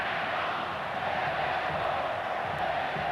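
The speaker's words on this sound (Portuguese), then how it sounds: "Ouça só a torcida." A stadium crowd at the Comunale in Turin keeps up a steady, massed roar of chanting for Bebeto, a dense wall of voices with no single speaker standing out.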